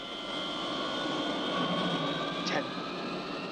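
An aircraft engine runs at full throttle during an aborted landing, a steady loud drone with a high whine, heard close and continuous throughout.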